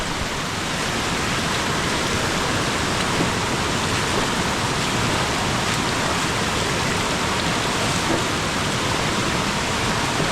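Heavy monsoon rain in Khed, Konkan, with a flooding river, makes a loud, dense, unbroken roar of pouring water that stays steady and close throughout.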